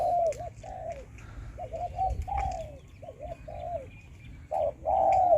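Deep, resonant spotted dove coos repeated in short phrases, fairly close and clear, over a low rumbling background.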